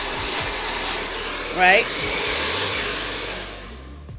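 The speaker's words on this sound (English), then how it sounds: "So you can go flat with the blow dryer" A hair dryer blows steadily at close range while drying a hair piece, its continuous whooshing drone filling the scene as a voice speaks briefly over it before the airflow cuts off near the end.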